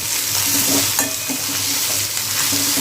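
Two large tomatoes stirred into onions already frying in oil for a ghevda bean vegetable dish, a dense constant sizzle near the pan with intermittent stirring scrapes and clinks, no voices.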